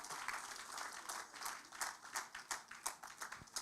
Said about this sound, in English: Another clap.